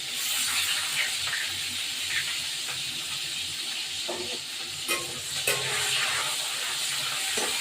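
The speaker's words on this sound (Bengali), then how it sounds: "পেঁয়াজটা একটু ভেজে দেবো" Onions fry in oil in a pan for a chicken curry, producing a loud, continuous close-up sizzle and hiss, broken by a few sharp spatula scrapes and taps against the pan.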